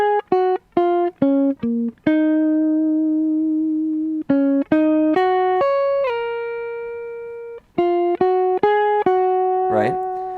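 A guitar picks out a melody in clean, sustained single notes, some held long and some plucked in quick bursts, with a brief scratchy noise at the end.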